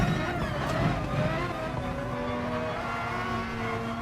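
A race car in a racing video game drives in the slipstream, its engine whine rising and then settling into a steady drone as it passes.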